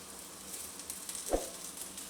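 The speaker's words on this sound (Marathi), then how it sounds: "ह्याच्यामध्ये टाकणार आहे मी लसूण" Garlic frying in a pan with potatoes sautéed over medium gas, giving a faint, steady sizzle with one soft knock partway through and no voices.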